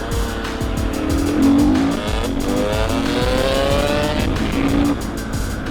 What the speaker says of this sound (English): After we've done a couple of more drag races, we're gonna do some flybys as well to hear incredible sound of these bikes.